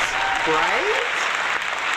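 An audience at a late-night comedy talk show applauds in a steady, even wash of clapping that runs for the full two seconds, with a voice talking over it.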